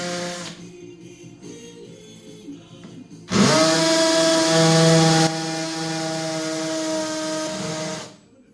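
A power drill bores screw holes for a surface-mount outdoor distribution box. A faint hum comes first, then the motor whines up loudly, eases to a steadier pitch and winds down.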